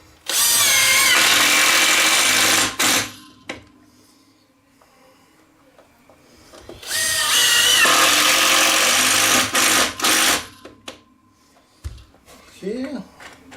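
A power drill drives screws into the wooden frame of a large upholstered chair under repair, with two loud whirring runs of a few seconds each, separated by quieter handling noises and short bumps.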